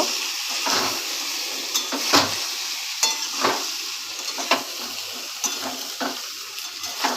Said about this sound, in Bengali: লাউগুলো দিয়েও ভাজা ভাজা করব